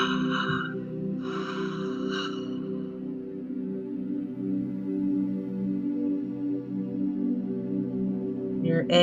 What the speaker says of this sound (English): You're inhaling with that wide oval shaped mouth, just as you're exhaling through it.